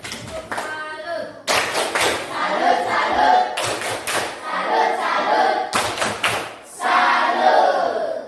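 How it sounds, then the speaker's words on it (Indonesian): A classroom of students claps a rhythmic salute for a classmate, loud repeated bursts of patterned hand claps and slaps, near and energetic, mixed with chanting voices between the claps. "Tepuk salut untuk temanmu"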